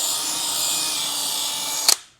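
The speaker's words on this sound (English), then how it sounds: "now we're going to drill it out first, a pilot hole" A small drill bit bores a pilot hole while fitting tree kickers and rock sliders to a Polaris Xpedition, a steady high whine of the drill running close up that cuts off abruptly with a brief click.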